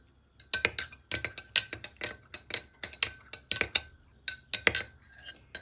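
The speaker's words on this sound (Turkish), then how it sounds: "Karıştıralım." A spoon clinks rapidly against a glass while instant coffee is stirred with hot water and sugar, a close, bright run of tinkling strikes in irregular bursts with short pauses.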